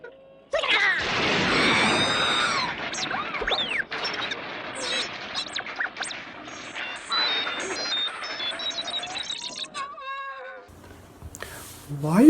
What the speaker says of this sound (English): all the times where R2-D2 is fucking screaming when he's in danger